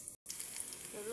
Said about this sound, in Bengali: ডাউলটা বাগার দিব, তেল দিয়ে দিলাম, কালো জিরা, শুকনো মরিচ